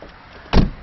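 A Volkswagen car door swings shut with a single solid, close thud after a moment of near quiet.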